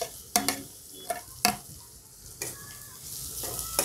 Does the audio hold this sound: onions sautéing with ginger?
yes